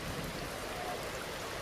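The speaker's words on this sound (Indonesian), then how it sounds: "tiba-tiba hujan turun deras." Heavy rain falling steadily, a soft even hiss of dense drops with no distinct pattern, fairly faint and uninterrupted, with no voices.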